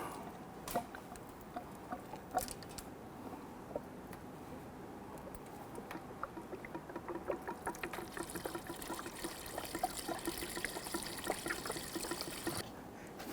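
Washer fluid trickles through a funnel into the windshield washer reservoir of a 2006-2012 Toyota RAV4, a faint, close, uneven dribble with light ticking drips that grows slightly busier toward the end.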